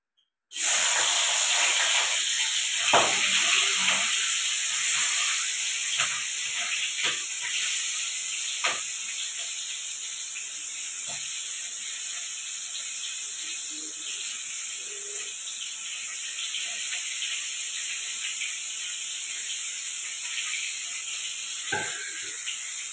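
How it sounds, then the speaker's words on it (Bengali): Prawns hiss and sizzle in hot oil, a loud, dense frying roar that starts abruptly and holds steady for a long stretch, with occasional small pops and clicks. "তেলটা গরম হয়ে গেছে, এবার চিংড়িগুলো একটু ভাজবো।"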